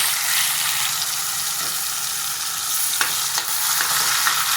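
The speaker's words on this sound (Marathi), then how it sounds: "आणि आता मी टोमॅटो टाकलेले आहे त्याच्यामध्ये." Tomatoes and Kolhapuri masala frying in hot oil in a home kitchen pan for rajma masala, giving a steady close sizzle with occasional stirring scrapes, no talking.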